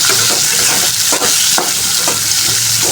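Ingredients sautéing in a pan on a stove over a high flame, a loud continuous sizzle punctuated by a few sharp scrapes and stirs of a spoon, close up and without speech.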